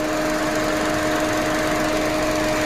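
Idling engine of a used Ford Freestyle Titanium heard in the engine bay, a steady, even hum with a faint whine and no irregular knocks, close and constant.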